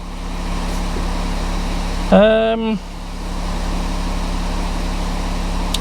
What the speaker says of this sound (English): That engine sounds really good. Nice and smooth.